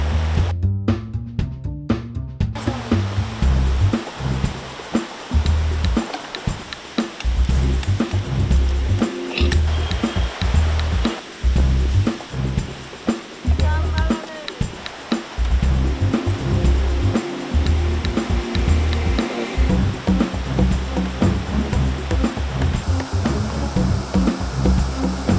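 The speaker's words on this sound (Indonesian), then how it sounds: "Nah, ini sungai besar." A big river rushes and churns steadily, loud and close, a continuous broad roar of flowing water with no voices.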